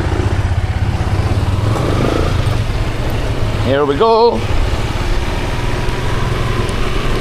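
A motorcycle engine runs steadily and close, then revs up briefly in a rising whine before settling back to a running rumble, with someone speaking over it.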